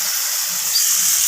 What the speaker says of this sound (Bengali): তো পেঁয়াজ টমেটো দুটোকেই ভেজে নিচ্ছি যতক্ষণে নরম হয়ে আসছে